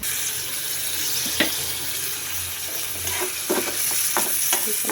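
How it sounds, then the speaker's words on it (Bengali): Onions fry in plenty of oil in a kadai, giving a steady close sizzle broken by occasional clinks and scrapes of stirring. "একটা কড়াইতে বেশি করে তেল দিয়ে পেঁয়াজ দিয়ে দিলাম"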